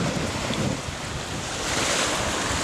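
Ocean surf rolls steadily onto the shore at Panama City Beach in St Andrews State Park, a loud, continuous wash of breaking waves mixed with wind buffeting the microphone.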